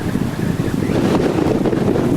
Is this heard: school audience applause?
no